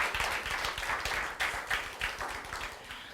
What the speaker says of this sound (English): That was like the biggest applause I've ever heard from a Teach for All audience.